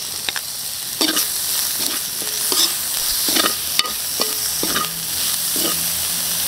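Chili peppers for binagoongan are stir-fried in a hot pan, giving a steady sizzle broken by repeated sharp scrapes of a spatula, close and fairly loud, with no voices.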